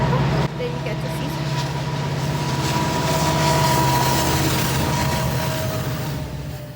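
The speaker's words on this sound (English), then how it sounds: "So that is our freight train" A long freight train passing, a loud, continuous rumble of rolling cars with steady low tonal hum, close and sustained throughout, gradually easing toward the end.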